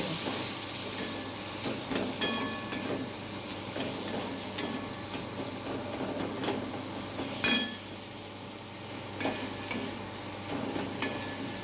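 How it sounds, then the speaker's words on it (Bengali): Chili, coriander and cumin powder sauté in a pan with a quiet, continuous sizzle, broken by scattered stirring scrapes and a few sharper utensil clicks against the pan. "দিয়ে দিচ্ছি অল্প করে লঙ্কা গুঁড়ো অল্প পরিমাণ ধনে গুঁড়ো আর অল্প পরিমাণ জিরে গুঁড়ো ভালো করে এটা কষে নেব"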